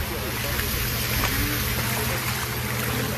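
Strong, fast flood current with rising water: a loud, continuous broadband rush and roar, steady throughout, with someone talking over it.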